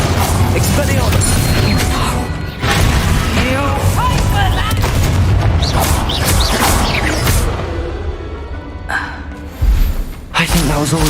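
Confringo spell blasts in the Hogwarts Legacy video game burst out as loud, booming fiery explosions and whooshes in rapid succession, layered over dense combat noise.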